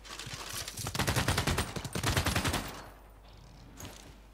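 Rapid bursts of gunfire rattle in a Civilization 6 strategy game, a loud dense volley lasting about two seconds that then fades to quiet.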